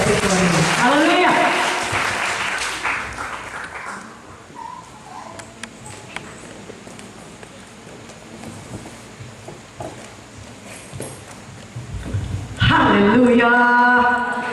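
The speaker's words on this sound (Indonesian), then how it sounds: "Mari berikan tepuk tangan kita" Church congregation at a revival service in Manado breaking into loud applause and cheering, fading to quieter murmuring and scattered noise before a second burst of clapping and shouts swells at the end.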